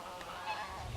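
Geese honking nearby outdoors on a rainy day, a steady jumble of overlapping calls across the whole moment with no talk.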